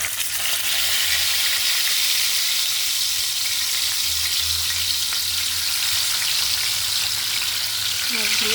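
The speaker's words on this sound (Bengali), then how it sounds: "তেলাপিয়া মাছ এখন আমি ভেজে ভুনা করব" Tilapia fish frying in hot oil in a home kitchen, a steady loud sizzle with crackling and spattering that runs unbroken throughout, with no talking.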